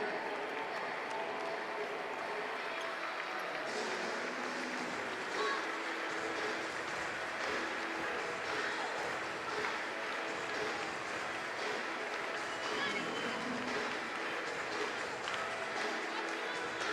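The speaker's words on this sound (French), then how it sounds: "vous pouvez applaudir effectivement" A crowd applauds at an evening prize ceremony after a Cesta Punta Grand Slam final in Saint-Jean-de-Luz, with steady, fairly distant clapping that runs on without break.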